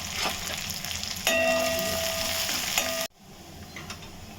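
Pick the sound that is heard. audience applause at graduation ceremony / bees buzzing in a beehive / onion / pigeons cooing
onion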